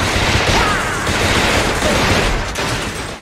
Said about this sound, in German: Die vielen Explosionen und die vielen Salven hören sich kraftvoll an